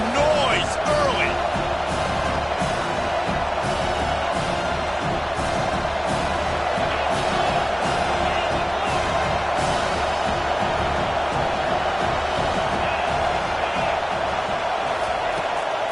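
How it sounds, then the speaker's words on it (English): A large stadium crowd at a San Diego vs Ole Miss football game roars steadily throughout, a dense wash of cheering and shouting with scattered whoops and claps rising from the din. "This crowd bringing the energy and noise early."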